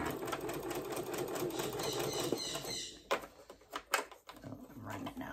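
A sewing machine stitching fabric runs with a loud, close, steady whir for about three seconds, then stops and starts in short irregular bursts.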